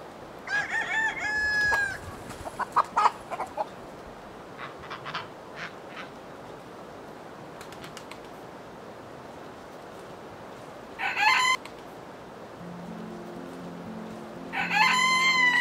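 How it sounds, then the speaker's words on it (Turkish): A young giant Brahma rooster crows several times, close and loud, with separate crows early on and again near the middle and end, plus brief clucks between them over a quiet background. "Genç ve dev gibi horozumuzu bir inceleyelim."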